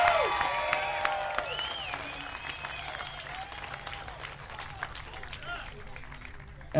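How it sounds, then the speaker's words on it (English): A crowd at a People's Convoy gathering applauds and cheers for the convoy workers, a steady roar of clapping under whistles and overlapping voices that slowly tapers off. "So give them a big round of applause and cheer."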